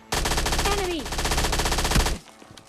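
Rapid suppressed gunfire from a silenced weapon in the mobile battle game PUBG Lite, a dense continuous burst lasting about two seconds, loud and close, then cutting off abruptly into quiet.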